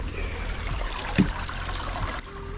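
Water trickling in East Palisade Creek at a campsite on the Superior Hiking Trail, a steady close babble across the whole stretch with a brief louder splash near the middle.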